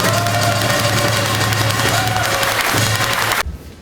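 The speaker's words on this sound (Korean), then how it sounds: "우리 이렇게 참 선당 후사 정신으로 함께해 주시는 정우택 부의장님께 감사의 큰 박수 한번 보내주십시오." A crowd at a People Power Party North Chungcheong campaign launch rally for the April 10 general election claps in a loud, sustained burst over a low hum, stopping abruptly near the end.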